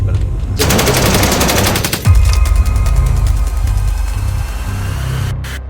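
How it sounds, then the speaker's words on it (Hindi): Rapid automatic gunfire rattles out in long bursts, loud and close, followed by a deep boom and further spaced shots against a rough, noisy background. "आतंकवादियों ने निहत्थे और खुशहाल लोगों पर अंधाधुंध गोलियां चलाना शुरू कर दी"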